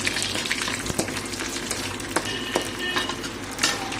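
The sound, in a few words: food frying in hot ghee in a pan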